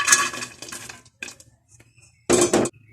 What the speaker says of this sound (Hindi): कढ़ाई मैंने चूल्हे पर रखी हुई है पहले से ही। तो अब इसमें कटे हुए प्याज डाल लूँगी